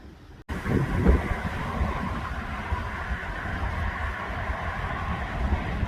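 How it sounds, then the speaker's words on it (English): Cold wind blowing outdoors on a frosty day, a steady loud low rumble buffeting the microphone after a brief quiet start. "the wind has kicked up and it is cold"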